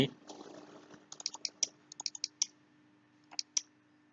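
Computer keyboard keys are typed in short irregular bursts of sharp clicks, fairly close and quiet, after a brief murmur at the start.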